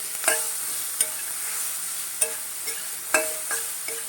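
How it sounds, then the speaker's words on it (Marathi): Grated raw green mango being sautéed in a pan, giving a low steady frying hiss broken by several sharp spoon-and-pan clinks, close and alone with no voices. "एक मिनिट आपण आता फक्त परतून घेऊया"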